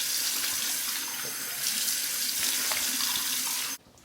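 A bathroom tap runs steadily into a sink to warm water for a face before a shave, a constant close hiss of flowing water that cuts off abruptly near the end.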